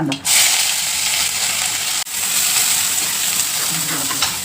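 Sliced onion fries in oil with mustard seeds and cumin, a bright, loud, continuous sizzle with a short dip partway through, and quiet stirring underneath.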